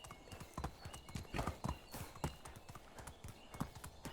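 A horse gallops in Medieval Dynasty, fast, even hoofbeats drumming in a steady rhythm throughout, fairly quiet and continuous.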